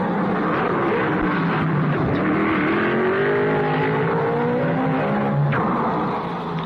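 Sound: racing cars at the 1955 Monaco Grand Prix

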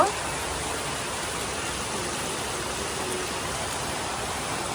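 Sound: heavy rain falling

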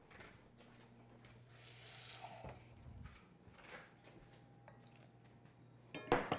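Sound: adding water from the tap

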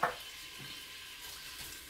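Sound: onions frying in cooking oil in a pressure cooker

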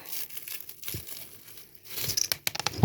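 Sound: tearing open mini toy package

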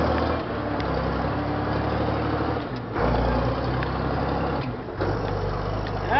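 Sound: Allis-Chalmers 7060 tractor engine snarling in first gear

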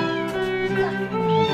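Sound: cats meowing

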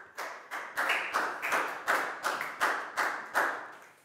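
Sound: class applauding a student

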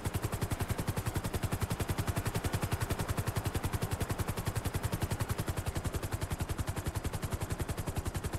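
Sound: helicopter in video game GTA 5

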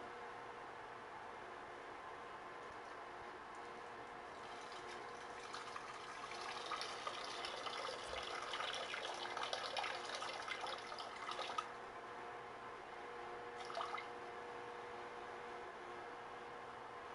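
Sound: pouring water to drink

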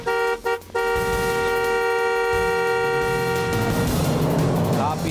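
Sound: car horn honking

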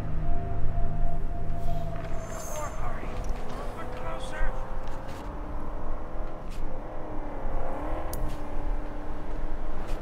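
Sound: car engine in Mad Max video game

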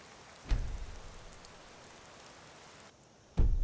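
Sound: rain falling in the video game Skyrim

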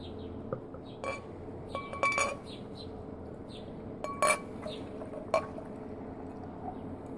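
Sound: beer bottle being opened and poured into a glass

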